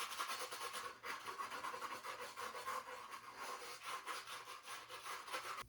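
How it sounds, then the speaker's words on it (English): A brush scrubs the bottom of a sneaker coated in shoe cleaner foam, a quiet, close, rhythmic scratchy rasping in quick repeated strokes with no voices. "I'm gonna start scrubbing the bottom actually first"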